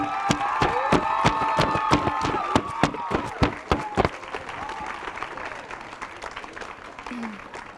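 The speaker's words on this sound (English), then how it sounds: "Let's give him a huge round of applause" A school audience bursts into loud applause with scattered cheers at a mural presentation, dense clapping that thins out after a few seconds into murmuring crowd noise.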